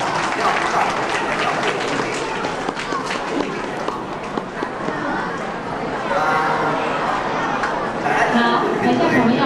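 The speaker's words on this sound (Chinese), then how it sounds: "大家掌声。" An audience applauds at a children's scripture-reading award ceremony, with sustained clapping from a crowd that continues steadily, with chatter and voices underneath.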